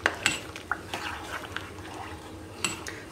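A spoon stirs melting butter in a pot with a few light scraping clinks against the metal, soft bubbling beneath, close and quiet.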